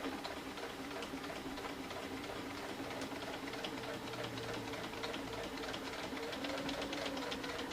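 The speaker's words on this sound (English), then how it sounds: "put your needle down, press your foot up, spin it, press your foot back down, and then we can keep sewing" A sewing machine stitches binding onto a vinyl zippered project bag, running as a quick, even ticking rattle that carries on steadily for the whole stretch, fairly quiet and close.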